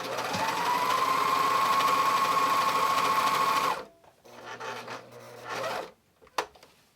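A serger stitches steadily around the edge of a layered fabric sandwich for a tote bag, a loud continuous whir for about four seconds before it stops and some quieter handling noises follow.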